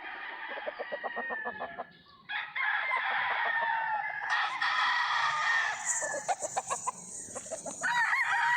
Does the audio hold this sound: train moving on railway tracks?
no